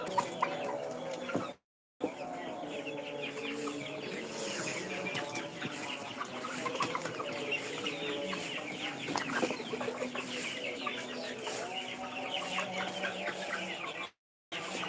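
A flock of Tiger breed chickens, nearly two kilograms at fifty-nine days, clucks continuously up close, a dense layered chatter with brief dropouts.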